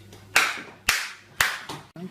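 Hands clap for a child: four loud, sharp claps land at a slow, steady pace, close to the listener, with a brief murmur of voices between them.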